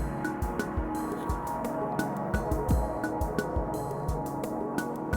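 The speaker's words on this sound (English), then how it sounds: "I'm using Ruismaker as one drum kit." A steady electronic drum pattern from the Ruismaker iPad drum app, triggered by Rozeta X0X, with punchy kicks and crisp hi-hat ticks in a tight repeating groove, over a soft synth pad.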